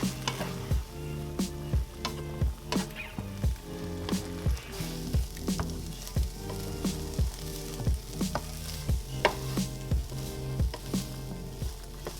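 Chickpeas cooking with sauce in a pan, giving a steady wet sizzle with regular stirring strokes and scrapes repeating about every second, close and moderately loud, no voices.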